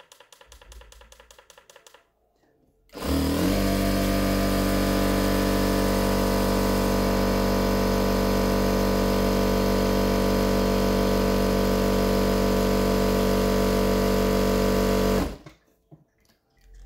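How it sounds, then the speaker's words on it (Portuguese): A sewing machine runs fast and steady for about twelve seconds, winding nylon 60 thread onto a bobbin, with a loud, constant mechanical whir that starts abruptly and then stops, with no talk. "Deixa eu acelerar isso aqui pra encher a bobina."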